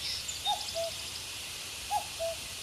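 A male cuckoo calls twice, each a clear two-note cuckoo phrase, moderately distant against a faint background hiss.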